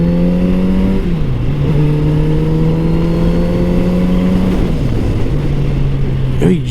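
Kawasaki Z900RS motorcycle engine accelerating hard, a loud close roar climbing in pitch, dropping briefly at two gear changes, then pulling again without a break.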